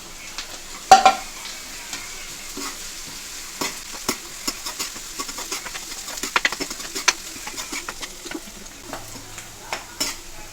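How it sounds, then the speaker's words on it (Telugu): Onions and capsicum pieces frying lightly in a pan for veg Manchurian, a continuous close sizzle broken by frequent sharp clicks and scrapes of stirring, with no talk. "ఈ ఉల్లిపాయలు మరీ బాగా వేగనవసరం లేదు, లైట్గా వేస్తే సరిపోతుంది."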